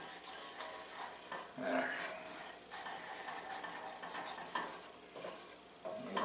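Flour cooks into a roux for a shrimp and crabmeat Newburg, stirred in a pan with soft scraping and a quiet sizzle, one brief spoken word near the start.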